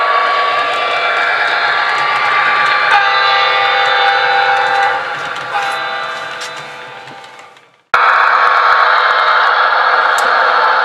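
A train rolls over the DT&I railroad line crossing near milepost 7.3 on a Michigan Southern line, a loud, steady mechanical drone with tonal rail ringing, fading out briefly and then resuming just as loud.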